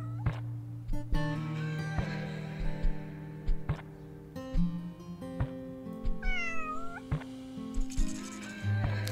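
Cats meowing in the board game Quilts and Cats of Calico, several separate meows and one drawn-out wavering cry spread over the stretch, with clicks and short chimes between them and no talk.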